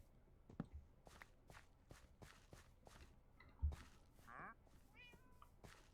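A pet cat moving close to the microphone during Minecraft play, with soft footfall-like taps spread across the clip, a louder thump near the middle and a brief meow-like cry soon after, with no talking.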